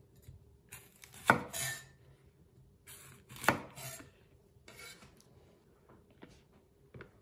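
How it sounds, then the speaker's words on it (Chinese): A kitchen knife roll-cuts chili peppers into chunks on a board, giving a few faint, close chops and scraping slides spaced irregularly, with no talking. "切成滚刀块"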